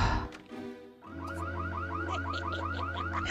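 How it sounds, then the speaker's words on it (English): A video game burglar alarm goes off, opening with a few electronic tones before settling into a loud repeating warble over a steady low drone, with no talk. "At least the burglar alarm is doing what I want it to"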